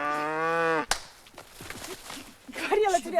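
A cow lets out one long, loud, tonal moo in a rural village setting, followed by clattering movement and scuffling while people speak.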